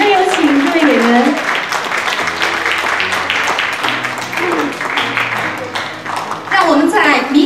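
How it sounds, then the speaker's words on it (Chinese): Audience applause rings out for dance school performers taking their curtain call at a showcase, steady loud clapping under a presenter's voice that carries over it. "掌声有请各位演员"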